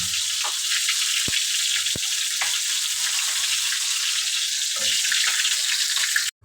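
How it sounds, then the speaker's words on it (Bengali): Pomfret fish fries in oil with a loud, continuous hiss and sizzle, broken by a few faint clicks and light stirring noises, ending abruptly. "এই মাছটি উল্টিয়ে ভাজা নেবেন ভালো করে"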